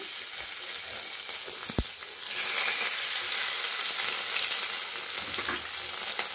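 Soaked, drained chana dal dropped into hot oil as a tempering for upma, giving a steady close sizzle and frying hiss with a brief clatter near the start and no voices.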